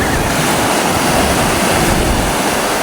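Open-sea waves and wind around a fishing boat, a constant loud roar of surf and rushing water with heavy wind buffeting, no voices.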